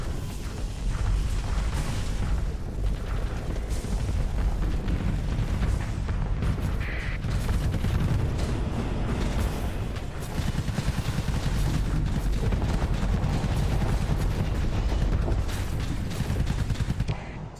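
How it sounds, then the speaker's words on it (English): Rapid missile salvo explosions from a space battle in the game Starsector, a dense, continuous barrage of booms and rumbling blasts that stays loud and unbroken throughout. "Missile salvo, though."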